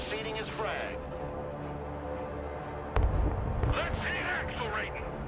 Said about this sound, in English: Let's try and get an airstrike in.